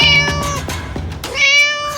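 A person imitates a cat with two drawn-out, tonal meows, one at the start and one near the end, loud and close with a short pause between them.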